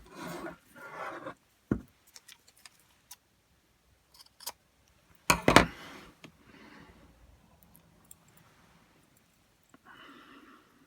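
Scissors cut a strip of fabric trimming for a Barbie doll coat, giving a few close, sharp snips and rasps separated by quiet pauses, with rustling handling sounds around them.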